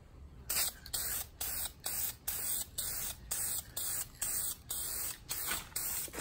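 Short repeated bursts of spray dye hissing onto a car interior, about a dozen evenly spaced pulses with brief gaps between them, close and steady, no talking.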